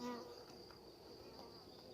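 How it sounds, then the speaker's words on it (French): Bees hum faintly at a hive with pollen nearby, a steady thin buzz lasting about two seconds, quiet and even, with no voices. "Il y a des abeilles."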